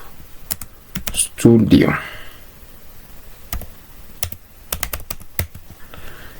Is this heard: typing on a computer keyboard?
yes